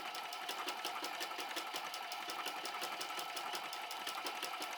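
A sewing machine stitches straight quilting lines through fabric for a large pouch made from 3.5 cm wide strips, its needle running in a fast, steady, even rhythm close up with no voices.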